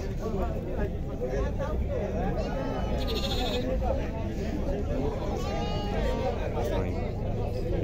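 Goats bleat repeatedly amid a noisy crowd of chattering voices at a goat and sheep market in Tabira, Pernambuco, the animal cries rising clearly above the background babble.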